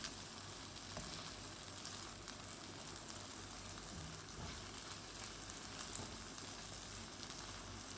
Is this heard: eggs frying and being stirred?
yes